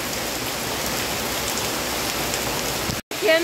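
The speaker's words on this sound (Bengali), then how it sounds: "প্রচুর বৃষ্টি হইতেছে" Heavy rain pours steadily outdoors by a canal and water-lily marsh, a dense, loud, continuous hiss that cuts out abruptly near the end.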